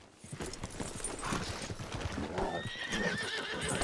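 Horse in a roleplay video game neighing with a drawn-out whinny while hooves clip-clop steadily, fairly close and faint.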